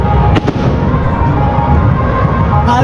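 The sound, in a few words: fireworks exploding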